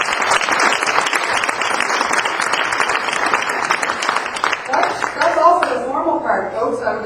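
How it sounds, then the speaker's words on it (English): Guests at a business reception in Toronto applaud in a dense, steady round of clapping that thins out toward the end as voices rise over it. "a round of applause is well in order for us"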